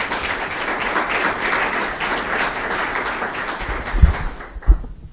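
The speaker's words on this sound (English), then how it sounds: "And a round of applause for our staff," A room of people applauds council staff at a special council meeting, steady dense clapping for several seconds before it thins out into a few final louder claps.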